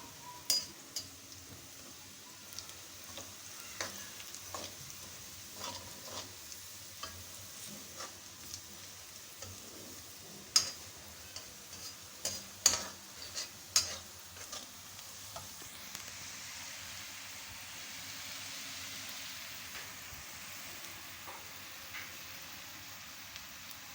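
Chopped onions and cumin seeds fry in oil in a pan with a steady low sizzle, broken by scattered clinks and scrapes of a spoon stirring against the metal.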